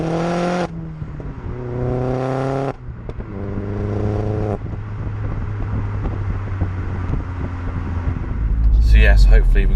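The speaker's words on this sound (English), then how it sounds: "I want to film that exhaust as well because it sounds absolutely epic." A Vauxhall Astra VXR exhaust drones and rises in pitch as the engine revs through gears, with wind noise and a loud rumbling burst near the end.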